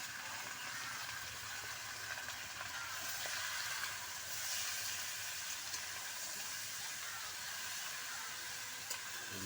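Meat frying in a pan while being stirred, a constant hissing sizzle with faint scraping, quiet and steady throughout.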